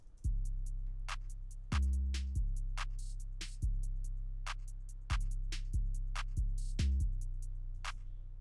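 A beat with deep bass thumps and sharp, clicky percussion hits layered in a quick repeating rhythm, steady and fairly quiet, no voices.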